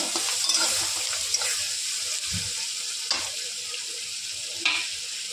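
Garlic paste fries with mutton for jadoh in a pan, giving a steady close sizzle with a few scraping stirs and light knocks spread across the clip.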